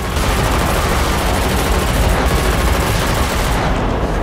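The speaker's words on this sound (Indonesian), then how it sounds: "Dia ditembak pak tua ini dan 13 menghabisi Henler." Gunfire in an action film rattles nonstop as a loud, dense stream of rapid shots, like a sustained burst from several automatic weapons, with no pause for the whole stretch.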